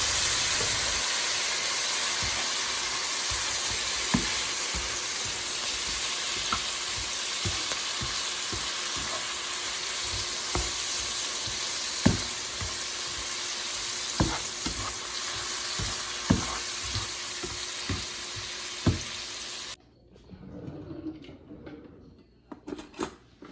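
Green onions fry in a pan with island-style teriyaki sauce, a steady close sizzle with scattered stirring clinks and taps, ending abruptly in quieter, softer frying near the end.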